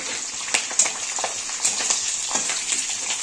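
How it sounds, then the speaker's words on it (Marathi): Cumin and mustard seeds tempering in hot oil for a paneer curry give a close, steady fine crackle with scattered sharp pops throughout. "ह्या फोडणीत थोडंसं मी जिरा मोहरं पण टाकते थोडं थोडं अर्धा अर्धा चमचा"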